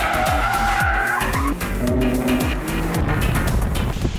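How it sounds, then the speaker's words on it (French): A Maserati 3-litre V6 twin-turbo engine, which revs to 8000 rpm, drives hard over a hill. The loud, close engine climbs repeatedly through rising revs with quick shifts, and tyres hiss underneath. "Die gaat tot 8000 toeren en dat voor een 3 liter. V6 twin turbo."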